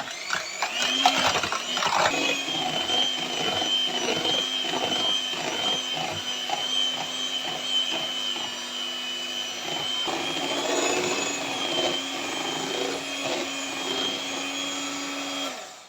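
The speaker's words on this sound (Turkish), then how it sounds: "Evet şimdi dilerseniz mikserimizle çırpalım." An electric hand mixer whips cream in a bowl, a loud continuous whirring drone that rises in pitch partway through as the speed goes up, with faint rattling of the beaters against the bowl.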